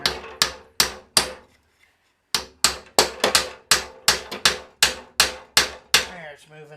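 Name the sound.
hammer pounding a 9/16 bolt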